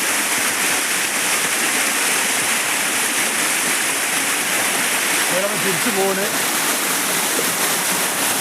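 Rainwater rushing along the NH 66 road at Randathani in Malappuram, Kerala, a loud, dense, steady wash of flowing water heard close up, with someone talking over it briefly.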